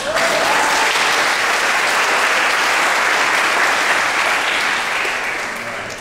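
A school audience at a middle school science awards ceremony breaks into loud, sustained applause, a dense wash of clapping that holds steady and then begins to fade slightly at the end.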